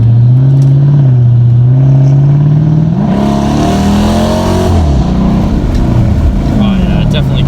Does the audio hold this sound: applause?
no